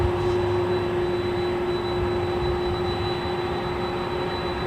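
Departing jet aircraft at LAX, a loud, steady engine roar with a sustained tonal whine holding evenly throughout, with no voices.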